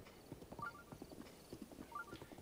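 Hooves plod at a walk in Zelda: Breath of the Wild on Nintendo Switch, an even run of soft clip-clop footfalls with faint ambient game sounds and no talking.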